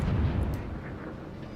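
Warship gunfire in World of Warships, shells fired over hills: a single heavy booming blast at the start that decays into a low rumble, followed by faint distant pops, with no talking.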